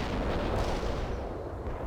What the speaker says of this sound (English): That Abrams tank is posing a serious threat to our forces